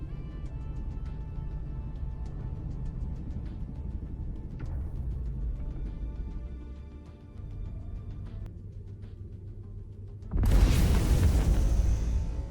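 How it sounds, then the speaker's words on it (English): A planet cracks under a superweapon beam in the space strategy game Stellaris: a steady low rumbling hum builds for ten seconds, then a sudden loud, broad explosive roar bursts in and holds to the end. "The beam is firing into the planet. It is now about to crack it, so we should see a bit of an explosion."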